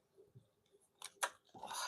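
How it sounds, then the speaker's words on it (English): Thick tarot cards shuffled by hand during a live reading, heard as a few crisp riffling bursts and a longer flurry at the end, near and fairly quiet, with no talk. "it's so hard to shuffle these cards in the way that I want to because they're so thick"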